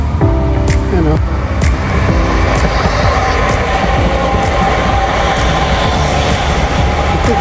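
A train pulls into a station with a loud, continuous rumble of wheels and carriages, faint screeching at the start and a regular clicking over the rails as it rolls close by.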